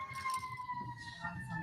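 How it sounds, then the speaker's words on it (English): A siren holds steady tones in the background, fairly faint and continuous, with low rumbling noise underneath. "Well, and we have a siren again."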